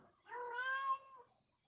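A house cat gives a single drawn-out meow, close and fairly quiet, rising then falling over about a second in an otherwise still room.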